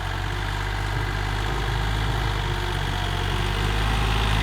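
Yanmar 39 hp tractor pulling an SBK rotary tiller through soil, a steady loud low engine drone with constant mechanical rumble, close and continuous with no talk.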